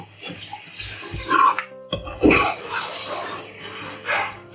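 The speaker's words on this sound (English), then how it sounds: "add a little bit of water to it." Water poured from a vessel into a pan of prawn curry, a close splashing gush with a sizzle as it hits the hot masala, then a bubbling simmer.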